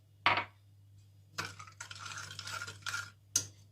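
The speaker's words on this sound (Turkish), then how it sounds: "Şu şekil biraz karıştırıyoruz." A spoon stirs dry yeast and sugar in a bowl for poğaça dough, giving a few short, quiet scraping bursts separated by pauses over a low steady hum.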